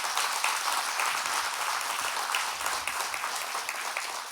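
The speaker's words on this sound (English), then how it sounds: "Please give them a tremendous round of applause." An audience applauds at the opening of a university business school, many hands clapping in a steady, even wash that holds at moderate loudness and tapers slightly at the end.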